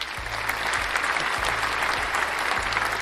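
Steady applause from a crowd on a midweek soccer preview show, dense continuous clapping that holds at an even level throughout with a low rhythmic thump pulsing beneath it.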